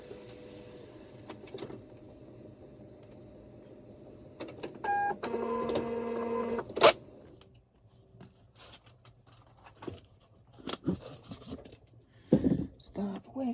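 An office printer runs a page, whirring and grinding for a couple of seconds amid quiet room sounds, followed by scattered paper rustles and clicks, with a voice speaking at times.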